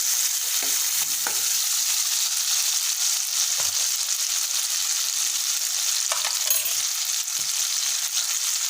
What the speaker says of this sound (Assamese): বিলাহীখিনি ভাজি লওঁ